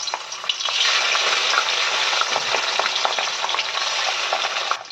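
Steady, loud sizzling and crackling of small pata fish frying in hot oil, with dense spattering pops throughout and no voices.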